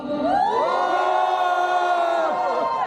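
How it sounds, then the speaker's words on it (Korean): A crowd at a candlelight rally in Seocheon lets out a loud, sustained cheer of shouting voices lasting a few seconds. "아주 힘찬 환호 감사합니다"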